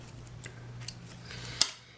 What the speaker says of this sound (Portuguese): Deixa eu tirar esse excesso de linha aqui